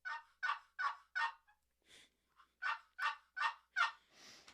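A wooden turkey box call, its lid slid back and forth, imitates a hen turkey with two runs of four or five raspy yelping notes in steady rhythm, close and clear, with no talk.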